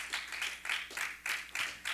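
Church congregation clapping hands together in a steady rhythmic beat, about six or seven broad claps, moderately loud and close, with no talking over them.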